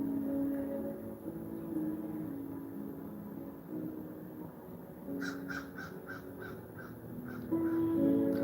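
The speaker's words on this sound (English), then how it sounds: "That was an actual crow that flew over my house." Crow cawing as it flies over a house, a run of about eight quick caws partway through, moderately near against faint steady background hum.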